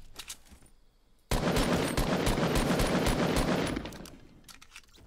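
Rapid automatic gunfire from a Fortnite match, a dense burst of shots lasting a couple of seconds at moderate level, with quieter single shots around it and no talk.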